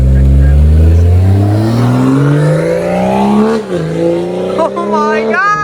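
A BMW M240i fitted with a catless downpipe and muffler delete revs hard, its raw exhaust note climbing steadily in pitch, dipping briefly, then surging again, very loud and close, with excited voices over it.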